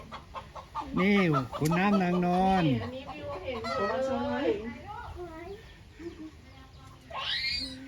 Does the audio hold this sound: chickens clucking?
yes